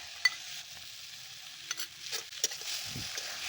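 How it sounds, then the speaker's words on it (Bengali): Vegetables with salt and dried chili paste fry in a pan for a Bengali fish curry, a soft steady sizzle broken by a few brief scraping stirs and clinks, heard close with no voices. "আরও কিছুক্ষণ আমি সবজিগুলো ভেজে নিব"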